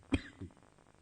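A single sharp cough, followed by a softer second one, close and brief in a quiet room.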